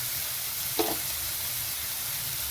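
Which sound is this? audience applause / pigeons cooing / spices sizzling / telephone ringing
spices sizzling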